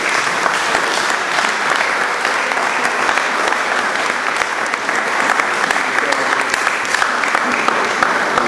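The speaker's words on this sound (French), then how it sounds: "Est-ce qu'ensemble on peut acclamer le Seigneur pour Papa Assou?" A church congregation at MPE Bethel Toulouse claps together in loud, sustained applause with a few scattered cheers and a voice over the top.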